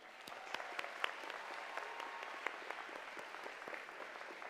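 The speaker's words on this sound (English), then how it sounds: "Give your parents a round of applause." A high school graduation crowd claps steadily for the graduates' parents at Middletown High School's 2023 ceremony, a dense, fairly distant wash of applause with scattered sharper claps throughout.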